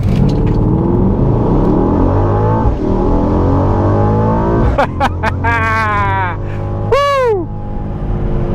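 A 2021 Mercedes-Benz GLE 63S AMG performance SUV launches hard from a standstill in race mode, its engine roaring loudly and rising through rapid upshifts. Excited whoops from the occupants cut in near the end.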